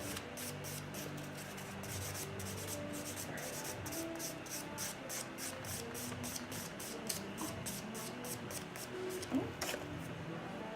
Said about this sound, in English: I'm going to use my Flex 180 buffer just to further smooth out